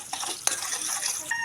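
Garlic sautéing in a pan for pancit canton gives a brief, steady hiss with a single light clink of a utensil against the metal.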